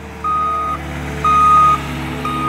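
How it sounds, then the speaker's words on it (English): A skid steer's reversing alarm sounds three loud, evenly spaced steady beeps over a low idling engine rumble, working near a dump truck during dirt work. "Of course, that skid steer, it's a good pair for that truck"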